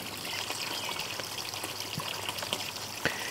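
Water pours and trickles steadily from a pond filter fitted with a UV sterilizer, a continuous soft splashing stream with occasional drips, heard close and alone.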